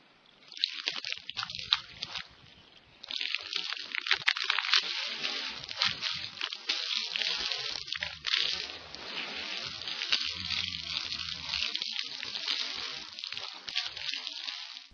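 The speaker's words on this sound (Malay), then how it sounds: "Dengan 3 kali menimba air." Water scooped and poured over the body during ritual bathing: splashing pours and sloshes come in bursts, with dripping and trickling between them, close and fairly quiet.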